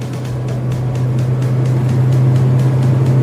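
Toyota Kijang LGX 97 held at 40 in fifth gear, a steady low engine drone with road rumble heard from inside the cabin, constant and loud throughout with no talking.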